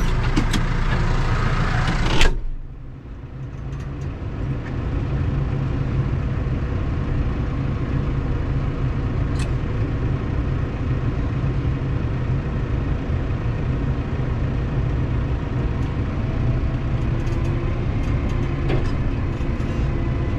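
A tractor engine runs steadily in its heaviest, slowest gear through a wet field during a slow canal recovery, a continuous low rumble with a loud burst at the very start, no voices.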